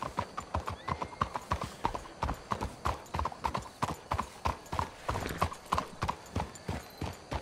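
Horse hooves clip-clop steadily in the western video game Red Dead Redemption 2, a brisk, regular rhythm of close hoofbeats with a horse whinnying partway through and faint voices underneath.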